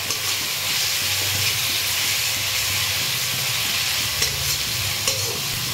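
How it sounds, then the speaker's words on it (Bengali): A mashed roasted-eggplant mixture for begun bharta is stirred in a sizzling pan, giving a continuous frying hiss with soft, regular scraping strokes of the spoon and a few small clinks near the end. "একটুখানি নাড়াচাড়া করব।"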